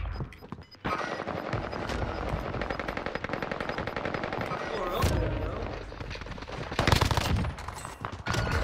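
Fortnite gunfire rattles almost nonstop in dense automatic bursts, punctuated by a couple of louder blasts, with a player talking over the shooting.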